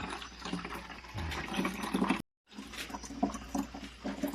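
Water pours steadily into a storage tank at dawn, a continuous rushing, splashing flow with a brief dropout midway, close and moderately loud.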